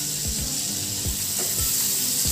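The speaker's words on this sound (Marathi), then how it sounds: "त्यामध्ये मी 1 कांदा घेतलेला आहे बारीक चिरून, तो टाकते." Finely chopped onion frying in melted fat in a pan over medium heat, a steady close sizzle with several dull thumps and scrapes of stirring recurring at a loose rhythm.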